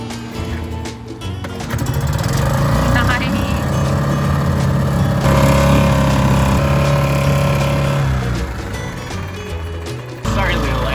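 A small cold boat engine at a boatyard starts and revs, a loud continuous drone rising and falling over about eleven seconds, with a brief dip near the end before it picks up again.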